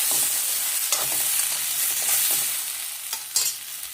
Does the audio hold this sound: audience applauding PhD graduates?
no